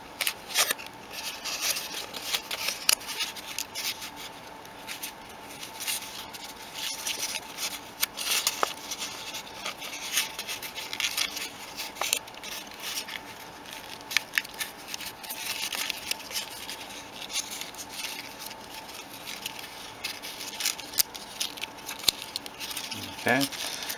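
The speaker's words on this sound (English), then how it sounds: "Fold that in half and start collapsing these down" Origami paper being folded in half and collapsed into box pleats, with soft crinkles, scrapes and small creasing taps under a person's quiet talking.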